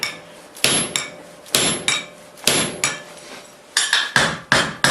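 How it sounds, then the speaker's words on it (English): Hammer blows upsetting the end of a 1/2 inch round bar at a forge: about nine sharp, ringing strikes close by, in an uneven rhythm, some in quick pairs, each fading before the next. "Moving on to our 1/2 inch round, I'm going to start by upsetting the end."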